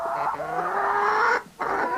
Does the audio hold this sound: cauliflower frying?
no